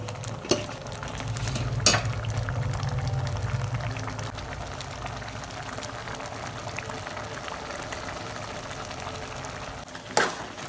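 Snake gourd kootu bubbles in a pot, a soft, steady simmering burble with a few sharp clinks of utensil against the pot.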